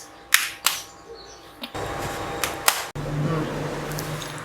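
A kitchen mixer grinder blends appam batter with jaggery. A few sharp clicks and knocks come first, then the motor kicks in with a rushing whir that settles into a steady hum, moderately loud and close.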